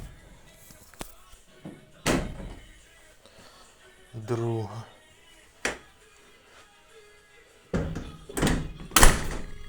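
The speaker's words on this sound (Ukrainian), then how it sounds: "Двері у нас закриті, нічого не брязкає." Rear door of a van closing after repair of a sagging door and broken lock pins, several heavy thuds and metallic slams spread out with someone talking between them.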